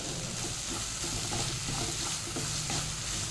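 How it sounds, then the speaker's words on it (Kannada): Tomato with turmeric powder frying in a pan for egg chilli, a dense, close sizzling crackle with soft stirring scrapes, steady throughout and unaccompanied by speech. "ಸ್ವಲ್ಪ ಚೆನ್ನಾಗಿ ಫ್ರೈ ಮಾಡ್ಕೊಳ್ಬೇಕು ಟೊಮೆಟೊ"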